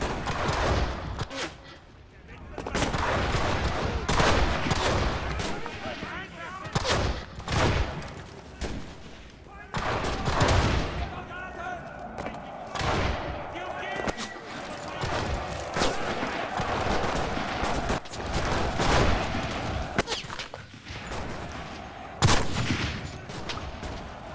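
Rapid gunfire in the shooter game Enlisted: dense bursts and bangs repeat across the whole stretch, mixed with other combat noise, while a player talks over the shooting.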